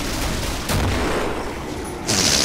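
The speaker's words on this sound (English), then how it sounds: "I think you threw a grenade" A grenade blows up in Killing Floor, a booming blast with a rumbling roll, followed by a second sharp burst near the end, loud and close.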